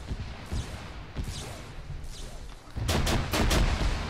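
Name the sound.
grenade launcher fire in the video game Arma 3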